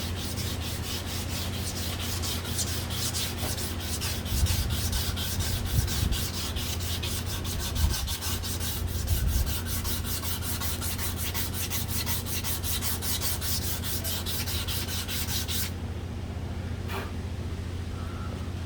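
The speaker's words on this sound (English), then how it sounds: "lightly go over with the sandpaper" A metal Cafe Racer swingarm fender for a KZ440 motorcycle is lightly sanded by hand with sandpaper, making a continuous close rubbing rasp of steady strokes under a low background hum before it stops near the end.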